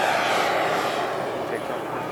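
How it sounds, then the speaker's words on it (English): Radio-controlled model jet airplane with a jet-fuel turbine engine and pneumatic retracts, flying at a warbird and classic aircraft show in Michigan; a steady, loud turbine roar sounds throughout. "This is actually a turbine that runs on jet fuel with pneumatic retract."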